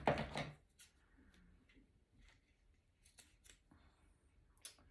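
A loud, close snip of scissors opens, followed by quieter rustling and a few faint clicks and taps.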